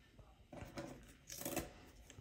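Scissors snip straight across paper in a short pair of crisp cuts while planner pages are trimmed, close and fairly quiet against a soft room background.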